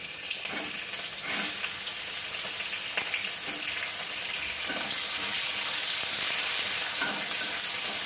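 Finely chopped onions fry in a pan, a steady close sizzle throughout with repeated scraping and clinking from stirring at irregular intervals; no speech.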